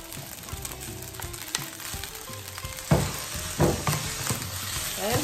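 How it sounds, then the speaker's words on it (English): Green peas stirred in a frying pan for egg fried rice, a constant frying sizzle with spatula scrapes that grow louder and sharper in the second half, near and without talk. "And then stir it. Then add the green peas."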